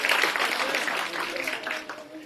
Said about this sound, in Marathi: जोरदार टाळ्या समोर करा